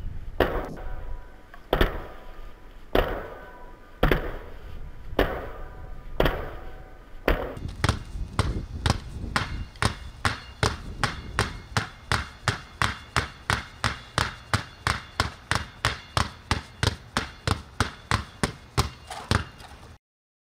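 Two basketballs are dribbled in a zigzag ball-control drill, starting with slow spaced bounces and shifting to a fast steady run of sharp, evenly timed bounces, heard close with no talking.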